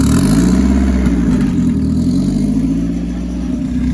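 Loud, close engine of a turbocharged 7th-gen Honda Civic converted to all-wheel drive, revving with rising and falling pitch while all four wheels spin, with a sustained roar and some clatter throughout.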